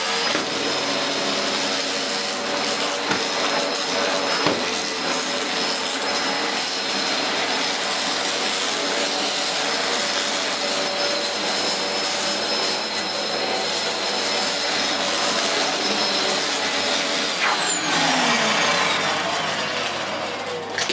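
Dyson DC04 vacuum cleaner running steadily with a loud, high-pitched whining roar, sucking up slightly damp carpet powder; it drones unbroken for about seventeen seconds, then winds down with a falling whine near the end.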